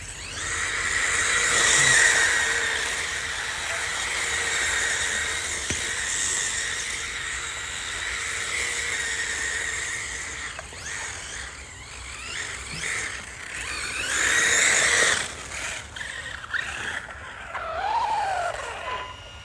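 A Hobao 8SC nitro RC car with an uprated engine and transmission screams steadily at high revs, the whine rising and falling as it passes nearer and farther, with brief dips and a final surge toward the end.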